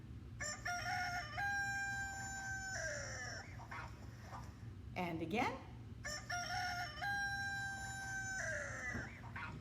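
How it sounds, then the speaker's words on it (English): A rooster crows a full cock-a-doodle-doo twice, loud and near, with a narrator briefly speaking in the pause between the crows. "Did you guess a rooster?"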